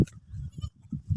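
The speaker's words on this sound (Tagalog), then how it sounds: "Talaga napaka-cute ng ating mga alagang kambing." Boer goats on a farm in Oriental Mindoro bleat in a few short, wavering calls, with a brief pause between them, fairly close and moderately loud.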